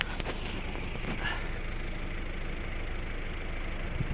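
A 2012 Volvo V50 with a 1.6 diesel engine idles steadily at the exhaust, a continuous low rumble with a brief rattle near the start.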